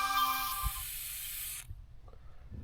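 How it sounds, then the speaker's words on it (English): Silicone lubricant sprays from an aerosol can nozzle onto trailer hinges as a steady, close hiss lasting about a second and a half, then cuts off, leaving faint handling noises. "You can spray this in there with that nozzle."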